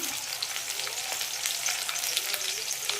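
Curry leaves sizzling in hot oil for a soya chunk kulambu, a steady bright crackling hiss throughout with scattered sharp pops, close and fairly loud, no talking.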